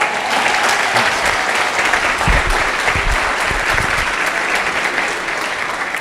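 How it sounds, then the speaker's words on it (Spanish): A congregation applauding during a Christian sermon, loud, sustained clapping from many hands that stays dense and even, with a few heavier thumps partway through before easing slightly toward the end. "Escucha este aplauso."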